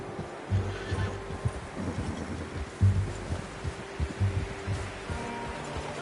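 A horse in Red Dead Redemption 2: soft hoof clops and snorting breaths near the listener, with a faint whinny, amid low ambient game hum and no talking.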